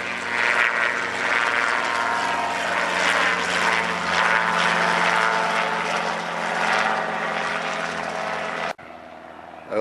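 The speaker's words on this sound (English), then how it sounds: "Here comes the helicopter again. It's doing long lazy loops over the riverbed." A helicopter circles in long, lazy loops over a riverbed, its steady rotor and engine drone loud and continuous overhead before cutting off abruptly near the end.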